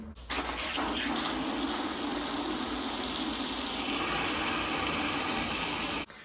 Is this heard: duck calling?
no